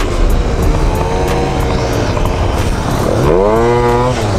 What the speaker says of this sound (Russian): показать вам, как же едет сейчас мопед с Малоси мультиваром и стоковой ответкой